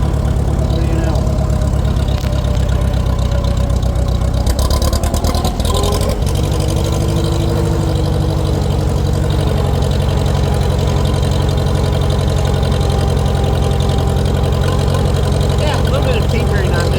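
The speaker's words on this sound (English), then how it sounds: "Just like, huh, tractor's going by." A Farmall Super H tractor engine runs steadily at a loud, close, low rumbling idle with a slightly knocking beat, continuous throughout, while someone talks over it.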